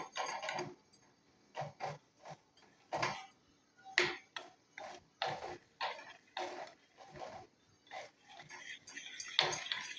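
Hibiscus face paste is stirred in a bowl with quiet, close scraping and tapping strokes that come in uneven bursts with short pauses between them.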